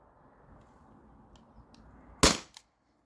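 A modded T4E HDP50 launcher running on a 20oz CO2 tank fires one sharp, loud, close pop, then a fainter second pop follows. Silence comes after, with only a low hum before the shot.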